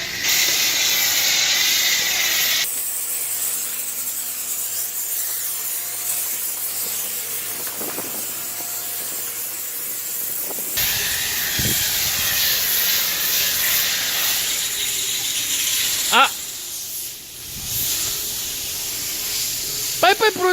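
An aerosol can of 3M matte black colorant sprays onto a Mini Cooper Countryman car wheel in steady hissing bursts, with short pauses between passes, loud and close, while people talk nearby.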